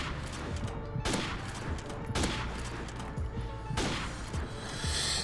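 Gunfire on a firing range in the video game Call of Duty: rapid automatic bursts with sharp cracks and a few heavy booming shots, loud and dense throughout, with no talking.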